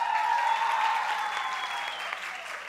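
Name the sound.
audience applause for a student invited on stage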